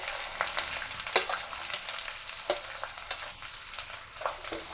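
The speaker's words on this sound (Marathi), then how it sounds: "आता तेल आपलं चांगलं तापलं आहे, त्यामध्ये सर्व भाज्या घालायच्या आहेत." Chillies, green beans and other vegetables hit well-heated oil in a pan, giving a steady crackling sizzle broken by sharp pops and the scrape of stirring, close and without talk.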